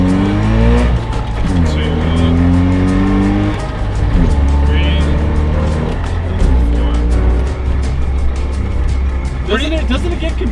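A 1989 Trabant car runs steadily with a loud, continuous engine drone whose pitch rises and falls as gears are shifted, with people talking over it throughout.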